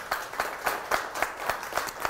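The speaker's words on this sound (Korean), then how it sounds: "축하 박수 한번 쳐주셔야죠." A studio audience applauds during a Korean history lecture, a short burst of steady, evenly spaced clapping from a modest crowd, close and fairly loud with no talk over it.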